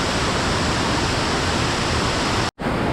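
Water pours steadily at Chinchoti waterfall near Naigaon, a dense, continuous roar that fills the whole stretch before a brief cut near the end.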